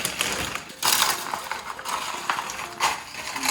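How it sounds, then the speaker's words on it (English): Nacho chips tipped into a bag, giving bright crackling rustles in several bursts, close and loud, with no talk. "we're gonna open our bags. We're gonna put in a mix of nachos here."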